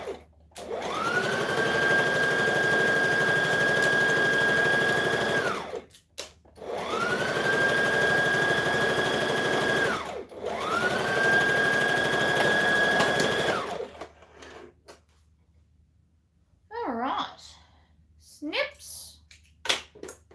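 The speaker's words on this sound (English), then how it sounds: "And we're going to overlock that now." An overlocker runs three bursts of about five seconds each with short pauses between them, a loud steady whir finishing a fabric edge for a blouse. Faint handling sounds follow once it stops.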